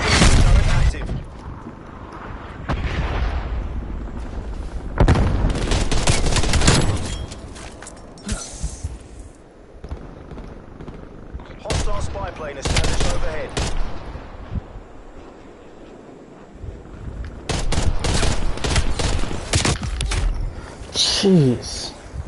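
Incoming artillery and gunfire in Call of Duty erupt as loud, rolling booms and bursts of shots, dense and continuous, with voices talking over the battle.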